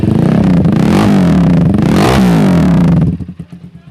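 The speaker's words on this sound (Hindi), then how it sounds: "बहुत अच्छा साउंड है बाइक का 250 के हिसाब से" A Super Power Sultan 250cc motorcycle engine revving loudly up close, two rising and falling throttle blips followed by a drop back to a lumpy, pulsing idle.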